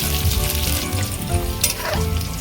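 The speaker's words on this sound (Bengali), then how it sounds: "আলুগুলো আমি ভালো করে ভেজে নেবো" Steady, loud crackling sizzle of potatoes frying in hot oil, with occasional scraping and stirring noises throughout.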